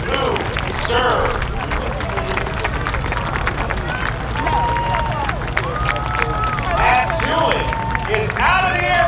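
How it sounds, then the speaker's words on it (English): Airshow crowd at Lynchburg Airshow 2016 clapping and cheering outdoors, a lively mix of scattered applause, whistles and chatter with an announcer's voice over it throughout. "Let's give them a nice round of applause"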